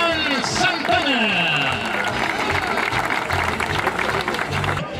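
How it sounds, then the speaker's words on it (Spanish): Audience at a baseball team presentation clapping as a catcher is introduced, a steady moderate applause running beneath an announcer's amplified, echoing voice. "Vamos a darle un fuerte aplauso a Mario Iván Santana."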